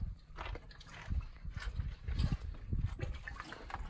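Pigs drink water at a pigsty on Astypalea, Greece, with close, irregular slurping, lapping and snuffling sounds and soft grunts.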